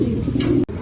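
Racing pigeons cooing at a loft during a race arrival, a soft low rolling coo that continues steadily and close, briefly cut off near the end.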